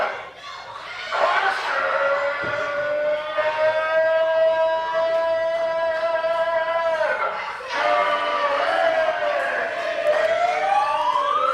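A loud, sustained siren wails with rising and falling pitch, briefly dipping then winding back up, with faint crowd noise beneath at a wrestling event.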